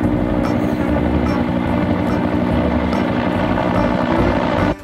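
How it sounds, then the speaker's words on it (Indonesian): A toy helicopter's steady whirring rotor drone runs continuously for several seconds, then cuts off abruptly. "helikopter."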